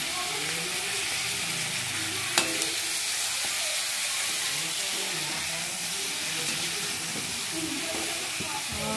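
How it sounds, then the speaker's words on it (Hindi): Chicken pieces fry in a pan with ginger and garlic for a village-style chicken korma, giving a steady close sizzle with stirring scrapes and one sharp clack, heard alone without talk. "तो मैंने चिकन को भी डाल दिया है, चिकन को थोड़ा सा हल्का सा फ्राई करेंगे।"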